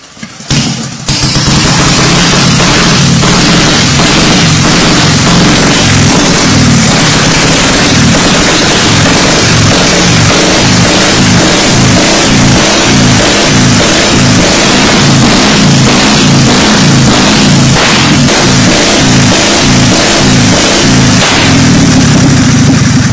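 A warm vintage motorcycle with the choke off and the engine decompressed fires up after a brief start attempt, then runs loudly and steadily with a pulsing, throbbing beat and repeated revs throughout, close up with no talking.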